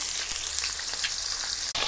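Pieces of fish fry in hot oil in a home kitchen, giving a steady, close sizzle and crackle that continues almost unbroken, with a brief dip near the end.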